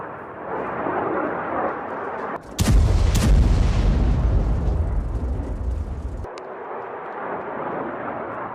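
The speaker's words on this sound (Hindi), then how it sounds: "तेल अवीव का आसमान आप देखिए, एक बार फिर से मिसाइल के जरिए हमला किया गया।" Missile attack explosions over Tel Aviv: a sudden loud double blast followed by a sustained rolling roar of impacts and rumble lasting several seconds, set against a steady background din before and after.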